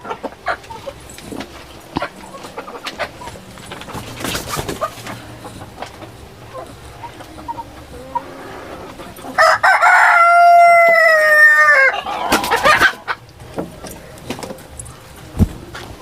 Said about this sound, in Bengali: চল, এপারে বোড়াল মুরগি আর এপারে আছে সোনালী মুরগি।